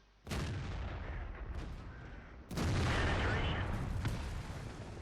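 Artillery fire in a tank video game, several heavy booming shots with long rumbling tails, loud and close, with game ambience between blasts.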